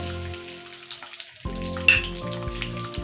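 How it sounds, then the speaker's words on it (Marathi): Garlic dropped into two spoonfuls of hot oil for a restaurant-style chicken Manchow soup, a short burst of close sizzling after a brief hush, with a few light pan knocks. "मी दोन चमचे तेल घातलं लसूण घालून घेते"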